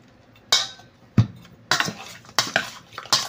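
Pork ribs in a baking soda marinade are stirred in a bowl, giving five or six sharp clanks and scrapes of utensil against dish, spaced roughly half a second apart over quiet.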